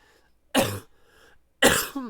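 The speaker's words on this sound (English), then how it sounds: "got that cough from that cold from a month ago." Two sharp, close coughs from one person, separated by a short pause, the second ending with a rough throat-clearing rasp; no talking.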